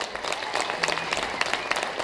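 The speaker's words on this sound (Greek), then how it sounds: "περάστε με ένα δυνατό χειροκρότημα και χειροκρότημα για αυτό" Steady applause from an audience at a live music performance, dense overlapping claps sustained throughout at moderate loudness, heard from some distance with no voice on top.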